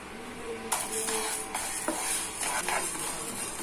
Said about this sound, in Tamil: உளுந்து போட்டு வறுத்தெடுத்துக்கலாம்.